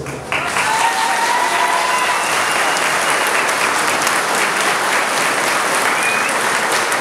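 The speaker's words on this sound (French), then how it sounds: "vous pouvez applaudir plus fort" A crowd applauds after a speech before the Une Rose, Un Espoir 2025 departure in Algrange, a dense, even wash of clapping that starts abruptly and holds steady throughout, with faint voices underneath.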